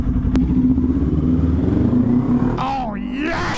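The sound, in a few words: motorcycle engine idling, RPMs dropping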